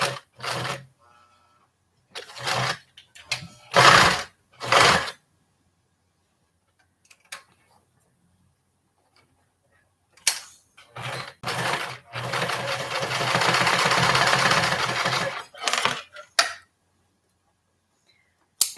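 A sewing machine stitches forward and back on a tiny fabric standing bag, running in short whirring bursts with pauses, then one longer continuous run before stopping.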